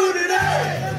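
An audience at an acoustic concert in Estherville, Iowa yells and cheers loudly in one brief burst of sustained crowd shouting.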